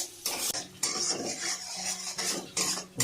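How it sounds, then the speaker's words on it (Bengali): A metal utensil scrapes and clinks against a pan in repeated stirring strokes as raw mango fries with sugar, with a soft sizzle underneath, close and fairly loud. "চিনিটা দিয়ে আমটাকে আমি সুন্দর করে ভাজা করে নেব।"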